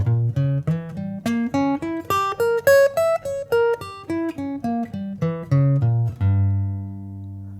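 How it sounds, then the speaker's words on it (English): A diminished arpeggio on guitar: about sixteen clean single notes plucked one after another, climbing steadily in pitch and then descending, ending on a longer ringing low chord. "we're going to do a diminished arpeggio"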